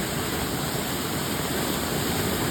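Monsoon rainwater rushes along a flooded road, a dense continuous roar of flowing water that stays steady and close throughout.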